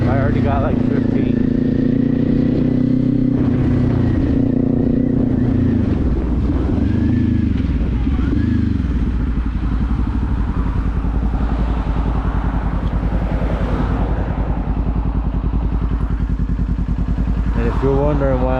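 A motorcycle engine runs steadily through a cold-weather ride, a loud continuous drone with shifting pitch that stays up close throughout.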